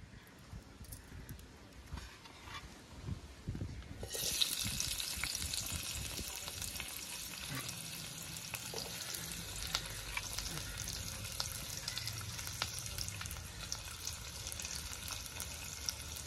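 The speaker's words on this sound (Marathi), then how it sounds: "आता आपण कांदा घालूया." Onion goes into a pan of roasted coconut for a big prawn curry. A quiet crackle jumps to a loud, steady sizzle that stays dense and close, with faint stirring beneath it.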